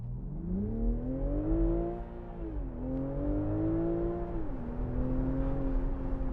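A 2019 BMW Z4 M40i accelerates hard through the gears, its engine note rising in steady sweeps with brief dips at each shift, heard from inside the cabin, loud and continuous, no talk.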